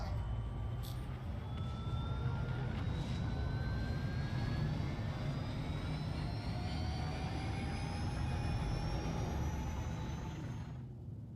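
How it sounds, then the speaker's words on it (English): Argo Raft ship engine in the Star Citizen video game, a steady loud jet-like roar with rising whines layered over it, sustained throughout before cutting off at the end. "that sounds like a fighter jet almost taking off"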